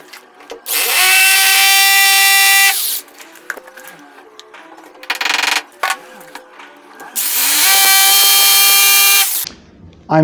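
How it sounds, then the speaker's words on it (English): An impact drill bores into a wall to mount a whiteboard. Two long, loud bursts of steady high-pitched whine are separated by quieter clicks and handling noises, all close by with no talking. "I'm using an impact drill"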